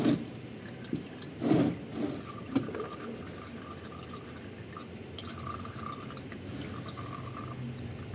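Engine oil draining from a Ford Fiesta during an oil change, a faint dripping and trickling with a few louder splashes early on, then a steadier soft liquid stream; no talk.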